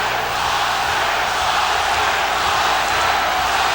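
A dense, loud, continuous roar from a boxing crowd, chanting Oscar's name during Pernell Whitaker vs Oscar De La Hoya, fills the arena without a break.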